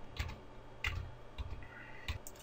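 Computer keyboard keys are pressed a few times, four distinct close clicks spaced unevenly over a quiet background.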